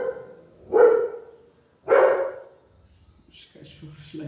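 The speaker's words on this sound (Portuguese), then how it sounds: "Os cachorros latindo." Two sharp, loud dog barks ring out about a second apart outdoors, followed by quieter yips and faint background activity.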